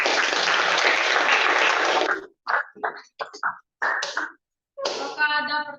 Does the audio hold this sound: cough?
no